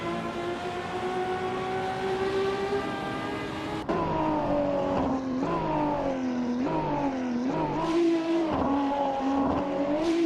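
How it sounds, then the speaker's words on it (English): Race cars in a racing video game drone past with shifting, rising and falling engine pitch, several cars overlapping with steady gear changes; no voices. "The battle for 10th place is intensifying as Crazy Fingerson aims to overtake Bot Shalesy."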